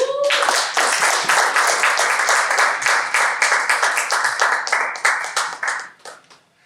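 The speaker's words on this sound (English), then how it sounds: "let's give him a huge round of applause" Steady applause from a group at a Toastmasters club meeting fills several seconds, with dense, even clapping that thins out and fades near the end.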